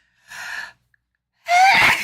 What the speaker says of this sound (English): Oh my goodness, I'm going to sneeze.